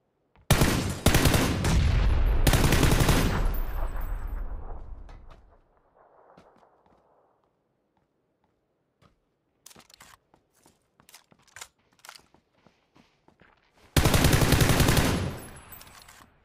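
M4 rifle gunfire in a video game rings out in loud rapid bursts, a long opening volley, then scattered faint clicks and taps, and another close burst near the end.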